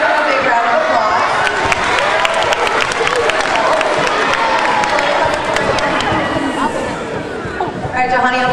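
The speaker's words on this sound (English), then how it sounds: "Let's give him a big round of applause" A school talent show audience bursts into loud applause and cheering for a performer, continuous clapping and crowd noise with scattered sharp claps, tapering slightly near the end as a voice begins to speak.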